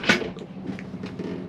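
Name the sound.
toiletry cabinet door opening or closing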